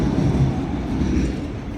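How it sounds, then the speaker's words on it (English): A train rolls past close by, a loud, steady low rumble with rattling wheel noise filling the whole stretch with no voices. "This train is driving here."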